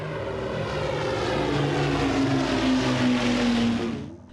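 Vintage propeller airplane engine drones steadily and loudly up close, a continuous rumbling buzz with a rising harmonic whine that fades out at the end, no voices present.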